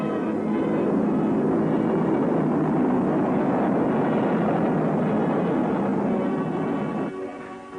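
A Convair B-36 intercontinental bomber flies over an air show, giving a loud, steady, broad engine roar that holds for several seconds and then eases off near the end.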